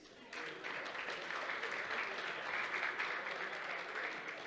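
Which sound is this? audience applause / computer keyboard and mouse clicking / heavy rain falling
audience applause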